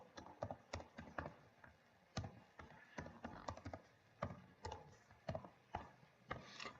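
C program code is typed on a computer keyboard as irregular, clicky keystrokes in quick bursts and short pauses, close and fairly quiet, with no talking.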